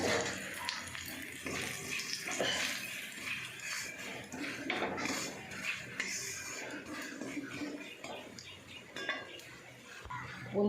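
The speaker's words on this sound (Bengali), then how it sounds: "বন্ধুরা, আমি এবার একটু জল দিয়ে দেবো।" Water poured into a pot of spiced curry with ground coriander, cumin, turmeric and chili, a running splash with clinks of utensils against the pot, fairly quiet and steady throughout.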